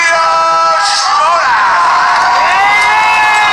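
A party crowd at a movie trivia show cheers, whoops and shouts loudly and continuously, a dense close roar of many voices with no single speaker standing out.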